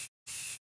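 Two short hissing bursts of an imported room spray, a quick puff followed by a longer spray with a gap between them, close and faint.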